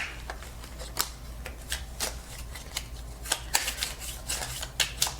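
Tarot cards are shuffled by hand in a steady series of quick riffling bursts, close and clear over a low background hum, with no talking.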